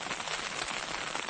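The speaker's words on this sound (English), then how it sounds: "it's raining tonight." Steady rain drums on a Marmot tent at a winter wild camp in Cumbria's Lake District at night, a dense, even patter close around with no voices.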